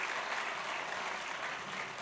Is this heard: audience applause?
yes